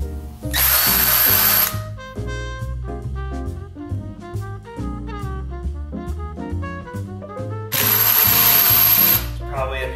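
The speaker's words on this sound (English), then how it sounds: "I'm about to drill a hole in the wall." A power drill bores a hole into a home wall during a kitchen and home project, with two loud, sustained whirring bursts, one near the start and one near the end, over steady background music.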